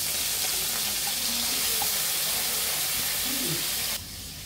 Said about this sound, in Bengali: আমরা এখন করলাগুলো মাছ তেলে দিয়ে দিব।